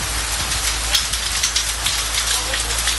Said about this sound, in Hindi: पंजाब के शहर गोजरा में भी बादल खुलकर बरसे।